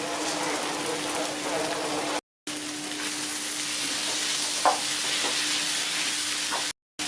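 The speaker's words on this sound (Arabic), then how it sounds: "غادي نبقى نخلط حتى كطيب لينا هاد الخضره" Vegetables frying in a pan sizzle steadily while a utensil stirs through them, with occasional soft scraping clicks under a constant crackling hiss.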